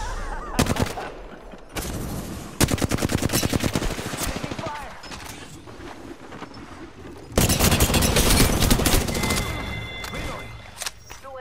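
Bursts of rapid automatic gunfire and single shots in Apex Legends, loud and close, coming in clustered volleys with short pauses between them.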